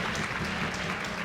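The crowd at a World Archery compound mixed bronze final in Mexico City applauds, a dense, even clapping that stays steady for the whole short moment.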